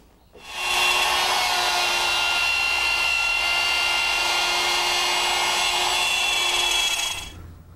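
A router guided by a dovetail jig mills the pins in a 9/16-inch wooden board, making a loud, steady high whine that runs unbroken for about six and a half seconds with no talk.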